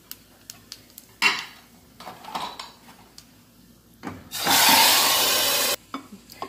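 A spoon stirs fried chillies and red chilli powder in a pan, with scattered clinks and scrapes and then a loud sizzling burst of about a second and a half, close by.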